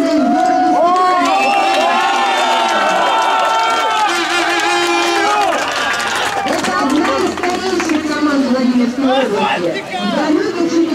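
A crowd in a stadium cheers and claps loudly and continuously for a football team being introduced at a regional cup final, voices and shouts blending into a dense, sustained roar.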